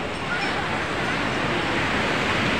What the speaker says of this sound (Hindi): ये मेरा बीच का समुद्र है